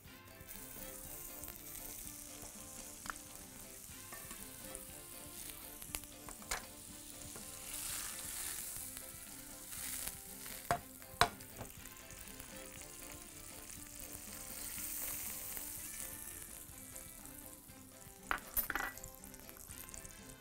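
Butter heating in a pan sizzles and crackles steadily and close up, with a few sharp clicks and small utensil knocks scattered through and no talking.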